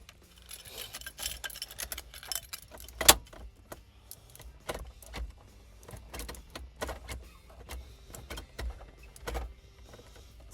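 A key going into the ignition of a 1985 Chrysler wagon makes faint metallic clicks and jangles, with one sharp louder click, heard close up in a quiet car interior.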